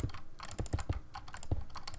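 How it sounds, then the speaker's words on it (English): Someone types on a computer keyboard during a modded Minecraft session, producing quick uneven clacks with a few heavier thumps, close and clear with no talking. "if you hear my keyboard, sorry about that as well"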